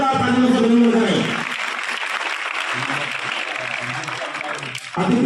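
Applause from students and guests at a school annual results and prize ceremony, steady clapping that swells briefly as a voice fades, then continues at an even level to the end.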